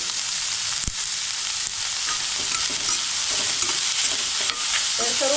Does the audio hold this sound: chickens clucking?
no